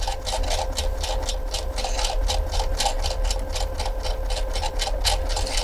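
A Brother sewing machine stitching a buttonhole runs in a fast, steady mechanical rhythm of needle strokes, loud and close, with a low motor hum underneath and no talk.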